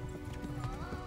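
A horse gallops in Kingdom Come: Deliverance, a brief burst of rhythmic hoofbeats, close and moderately loud, with a faint whinny mixed in.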